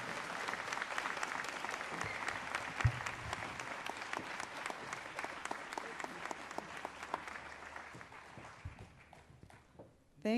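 Audience at a graduation ceremony clapping continuously for about ten seconds, dense and steady at first, thinning out toward the end, with a few faint voices and shuffling under the applause.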